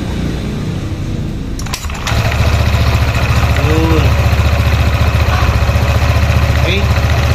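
A Honda PCX scooter fitted with an aftermarket crankcase cover cranks briefly, starts, and settles into a steady, close idle, with a person talking faintly in the background.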